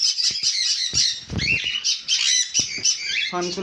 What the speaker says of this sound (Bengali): এখানে সানকনুর আছে, ফুল অ্যাডাল্ট পেয়ার আছে